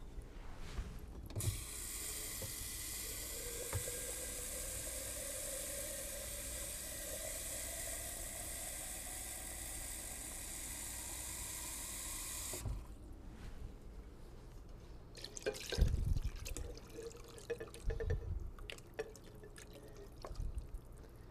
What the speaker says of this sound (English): To that, I will add a quart of water.